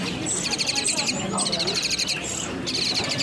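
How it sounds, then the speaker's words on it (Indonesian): An orange-headed thrush (anis merah) in a cage at a bird seller's stock, singing repeated bright chirping phrases close by, with someone talking steadily underneath. "Untuk anis ya,"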